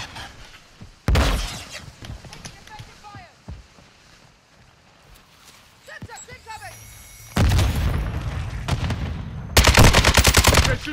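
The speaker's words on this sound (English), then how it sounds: "They're shooting at me." Gunfire in the Call of Duty Warzone video game: a single loud burst early, then sustained rapid automatic fire and heavy blasts building toward the end, with voices talking in between.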